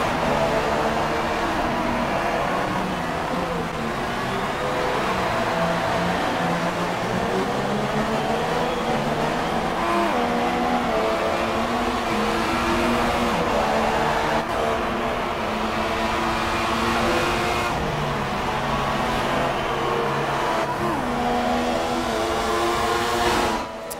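Formula 1 cars from the F1 2016 racing game roar past in a steady, loud stream of high-pitched engine whine at the Eau Rouge climb in heavy rain, with shifting revs rising and falling throughout and no pauses.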